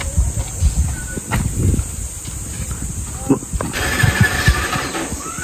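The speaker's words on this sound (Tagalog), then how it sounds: "Ayaw na umandar ang motor mo." A motorcycle whose engine won't start, apparently from a dead battery, sputters and turns over in short rough bursts without catching, close by, with crickets or outdoor hiss in the background.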